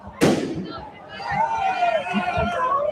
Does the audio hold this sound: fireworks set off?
yes